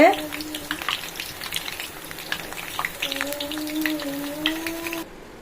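Onion bhajji fry in hot oil, giving a light, crackling sizzle with scattered pops that continues throughout at moderate level, with a faint tonal whine in the background.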